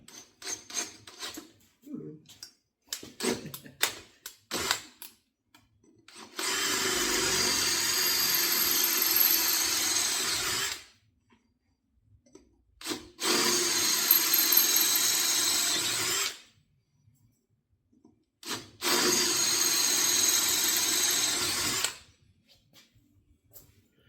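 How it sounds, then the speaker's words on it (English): A power drill whines through a metal brake hub in three sustained bursts of several seconds each, separated by short silences, preceded by scattered clinks and handling noises. "Drill out those 3 holes."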